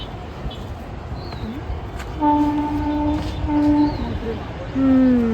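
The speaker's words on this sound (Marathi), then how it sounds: "कुठे गेली हे बघ आता येते ट्रेन" A train rumbles past nearby on a line near Pune, sounding several long, steady horn blasts over the constant roar of the tracks while people talk.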